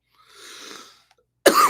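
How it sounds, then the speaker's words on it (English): A person recovering from a cold gives a single harsh, close cough, preceded by a faint breathy rasp and a short silence. "I'm just coming off a cold, y'all, so I've been coughing."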